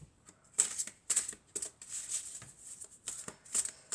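Tarot cards being shuffled and drawn: soft, quiet papery flicks and snaps that come in short irregular clusters over a faint background, with no voices.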